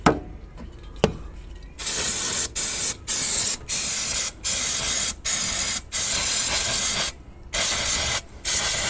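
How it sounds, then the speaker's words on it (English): Repeated bursts of aerosol brake cleaner spray hiss loudly onto a Honda J-series V6 throttle body, about nine short blasts in a steady rhythm, each lasting under a second with brief pauses between. "it'll get some brake cleaner. And go ahead and spray this down"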